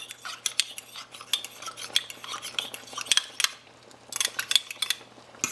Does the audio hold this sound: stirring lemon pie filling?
yes